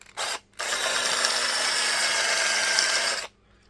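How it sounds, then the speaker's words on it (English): A power drill whirs in a short burst, pauses, then runs in one sustained, loud, steady grind for about three seconds before stopping, drilling into a toy blaster. "We should be able to drill right through it."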